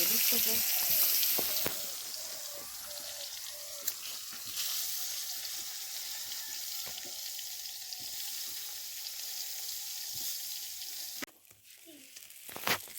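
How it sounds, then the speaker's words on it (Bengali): Brinjal slices frying in very little oil in a pan while cooking outdoors in a field, a soft continuous sizzle with occasional clinks, faint and steady, with a brief quieter gap near the end. "বেগুন ভাজা কিন্তু হয়ে গেছে একদম কম তেলে"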